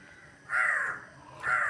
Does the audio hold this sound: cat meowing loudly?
no